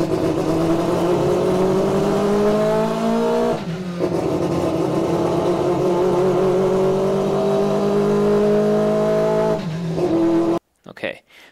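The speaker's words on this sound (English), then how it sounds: "so the car is revving" A 1240-horsepower car engine revs steadily in logged playback, its harmonic drone climbing in pitch over about ten seconds with a brief dip partway through, then cutting off near the end.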